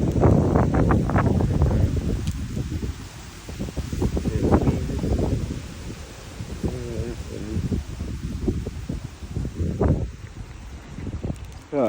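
Gusty wind blows on a windy day by the water along Indian River Drive, rumbling and buffeting the microphone in uneven bursts while people talk nearby throughout.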